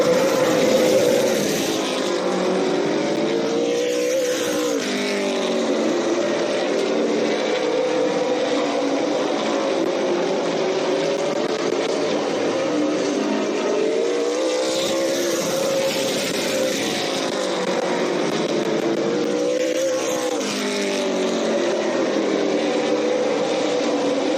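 Dirt track race cars at a 4-17 B-Main race sweep through the turns, engines droning and rising and falling steadily in pitch as the pack circles, loud and continuous with no talk.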